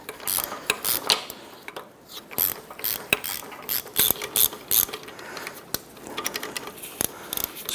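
A ratchet works a front strut nut on a 2008-2012 Honda Accord, giving quick irregular bursts of close, crisp clicking with short pauses between strokes.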